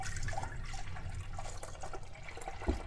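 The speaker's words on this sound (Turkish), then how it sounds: "Böyle bir karıştırma kabının içerisine 5 su bardağı süt ekliyorum." Five cups of milk poured into a mixing bowl, a continuous soft liquid splash and gurgle at close range, fairly quiet, with a brief knock near the end.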